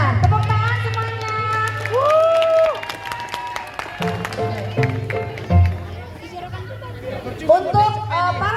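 An audience claps for child performers in a lenong folk theatre show. The applause sounds busy and uneven under loud, lively talk and crowd chatter.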